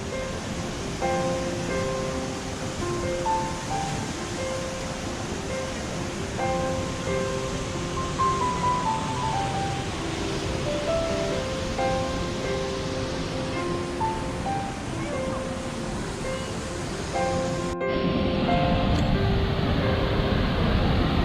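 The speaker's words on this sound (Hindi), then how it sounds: "That's the Nainai waterfall, as you can see." Ninai waterfall in Shoolpaneshwar Wildlife Sanctuary near Dediapada rushes in a dense, continuous roar, loud and steady throughout with tonal streaks overlaid, growing slightly louder near the end.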